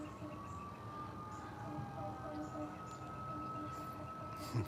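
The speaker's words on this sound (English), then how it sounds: "those sirens are getting closer. Sounds like fire engines and ambulances and stuff" Fire engine and ambulance sirens wail steadily from a distance, a faint continuous tone over outdoor background noise.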